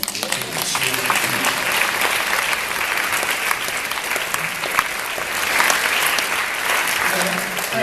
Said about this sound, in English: can we just give a big round of applause to Keith Wilson?